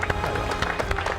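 An audience at a ceremony in San Esteban de Gormaz on the Camino del Cid breaks into loud, close applause, with many hands clapping at once in a brief, busy burst.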